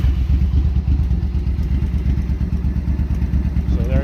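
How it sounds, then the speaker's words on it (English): A Suzuki VS1400 motorcycle engine runs close by with a loud, rough, pulsing low-pitched chug that stays steady for the whole stretch. "See if I can hold the clutch, hit the starter button."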